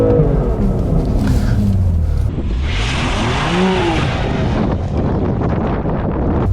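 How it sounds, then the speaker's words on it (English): A car set off in drive with heavy throttle, its rear wheels losing grip and spinning up; a loud, continuous engine roar rises with broadband tyre and wind noise close to the microphone, no talking. "as we set off, the power and the torque overcomes the grip that's available to the rear wheels, and the wheels spin up"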